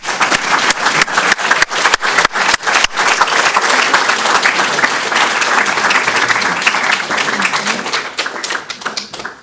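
Audience applause closing a UCL Queen Square Institute of Neurology annual address lecture, sharp individual claps at first that swell into steady dense clapping from a large room, tapering off near the end.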